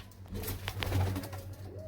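A pigeon cooing close by, a low throaty murmuring coo rising and falling over about two seconds, with no talk over it.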